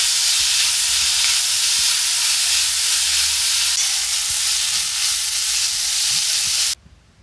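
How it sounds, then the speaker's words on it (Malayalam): Chopped tomato goes into a hot frying pan and is stirred, producing a loud, continuous sizzle with faint scraping, ending abruptly near the close. "തക്കാളി നുറുക്കിയത് ചേർക്കാം."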